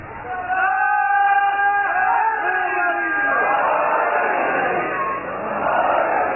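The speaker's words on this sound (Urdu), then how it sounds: "نعرے کی آواز پوری کیوں نہیں آ رہی؟" A large crowd at a religious gathering in Kamoke chants a slogan in unison. Sustained voiced tones rise together and then spread into a loud, full roar of massed voices that carries on to the end.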